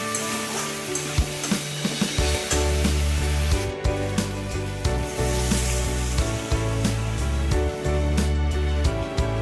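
Capsicum gravy with water, turmeric, chili powder and sugar simmers in a pan, bubbling and sizzling steadily without pause, close and fairly loud, with faint scraping stirs.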